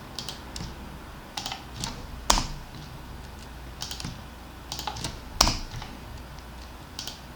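Computer keyboard keys are pressed while drawing a space truss in Ansys, with soft, close clicks arriving in small clusters, including two sharper, louder presses, over a quiet room hiss.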